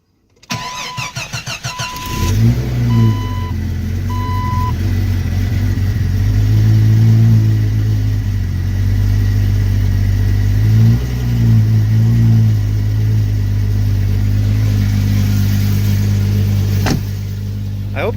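A car engine cranks and starts, then idles unevenly, running rough with a few brief revs before evening out into a steady, rough-sounding run.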